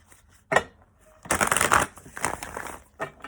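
Tarot cards are shuffled by hand, a short riffle followed by a longer, louder burst of papery flicking and softer shuffling, close by with no talk.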